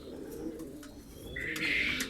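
Big balina breed pigeons coo in a Karacabey loft, a soft low rumbling murmur running throughout, with a brief brighter chirp-like sound rising near the end.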